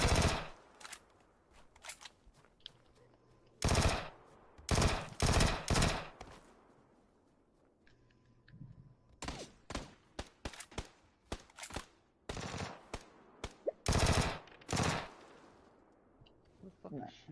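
Video game gunfire in a Minecraft Bedrock SMP session crackles in repeated loud bursts and rapid volleys, some clustered tightly, separated by quieter gaps with occasional voices in the background.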